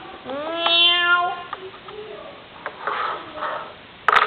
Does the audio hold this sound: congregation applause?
no